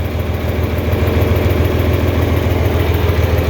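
A propane-fuelled farm tractor engine idles steadily, running on liquid propane with a close, continuous low throbbing rumble and no other sounds.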